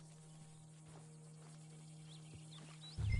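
Horse hooves clip-clop faintly in Red Dead Redemption 2, a few soft irregular steps over a low steady hum, with a louder thud at the end.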